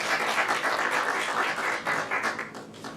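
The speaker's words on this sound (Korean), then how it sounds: "큰 박수 부탁드리겠습니다." An audience claps in a warm, even burst of applause at a Korean academic conference on law education, the clapping rising and falling slightly before tapering off.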